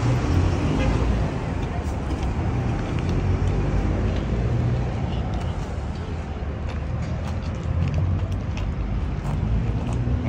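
Factory worker trucks pass in traffic in Nogales at dusk, giving a continuous loud roadway rumble with engine noise and occasional toots while people talk over it.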